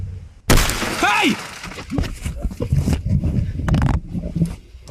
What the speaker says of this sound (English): witnessing the glass of his passenger side window shatter into pieces, Brendan quickly shouted at the individuals